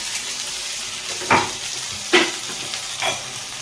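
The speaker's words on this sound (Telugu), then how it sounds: "అన్నీ బాగా ఇట్లా నూనెలో బాగా వాడించాలి." Dried red chillies, garlic and a spoonful of spices frying in hot oil, a steady broadband sizzle with three distinct scraping stirs of a utensil through the pan, no voices.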